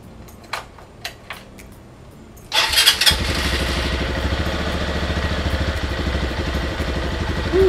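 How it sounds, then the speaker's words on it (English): A Lifan motorcycle fitted with a KP Mini H4 headlight has a few clicks before the engine cranks, catches and settles into a loud, steady idle close by. "So let's get the bike started."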